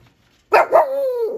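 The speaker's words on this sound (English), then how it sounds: "Stop barking." A dog barks twice in quick succession, close and loud, then trails into a drawn-out whining howl.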